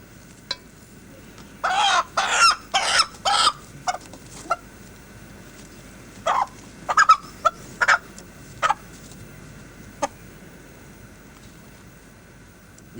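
A rooster in a ritual sacrifice makes clucking, gobbling fowl calls in short bursts, a close rapid cluster early, then scattered single calls with gaps of quiet between.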